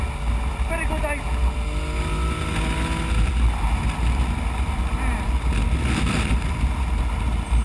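A 2017 Yamaha FJ-09 (Tracer 900) motorcycle engine gives a steady, close rumble throughout, mixed with heavy wind noise buffeting the microphone.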